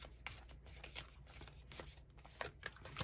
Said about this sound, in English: These cards are like really hard to shuffle